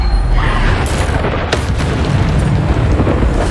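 The Bombarda explosion spell in Hogwarts Legacy lands as a loud, close boom, with a sharp crack partway through, inside a dense, continuous roar of spell effects.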